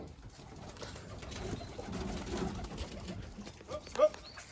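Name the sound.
racing pigeon arriving at the loft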